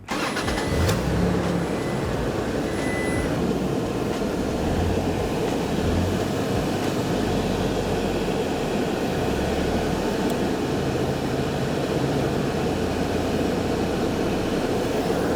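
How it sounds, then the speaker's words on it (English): A Toyota Tacoma crawler truck on 74 Weld portals with a Marlin Crawler setup drives over a bucket, giving a loud, continuous, close engine and drivetrain rumble that holds steady throughout with no talk. "Let's see if this thing will drive over a bucket."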